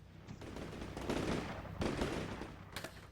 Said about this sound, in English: on turn 8 I move into Kilo in force with autocannon area firing at suspected buildings